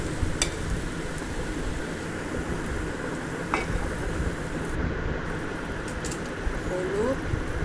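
Long beans, potato and pointed gourd frying in a pan with a red spice paste, a steady broad sizzle running throughout at close range, with a few clinks and scrapes.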